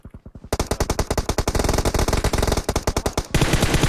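Automatic gunfire in the mobile battle royale game PUBG Mobile, fast, loud bursts of close rapid shots firing almost continuously, with no talk over them.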